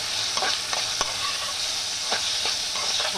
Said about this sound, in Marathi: ते आपण छान आता मस्तपैकी मिक्स करणार आहोत.